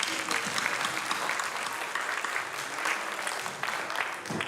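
An audience at a multicultural show applauds after a play, a dense, steady clapping that stays loud throughout with a few voices mixed in.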